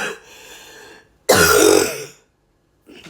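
A person gives a wet, phlegmy cough and clears their throat up close: a soft rasp, then one loud harsh burst after a short gap, and a faint final throat noise after silence.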